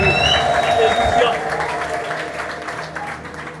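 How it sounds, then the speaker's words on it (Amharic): A church congregation breaks into loud applause with high, trilling ululation rising above it at first, the clapping then gradually easing and thinning out. "እልልታ ጭብጨባ ለኢየሱስ አብዙለት።"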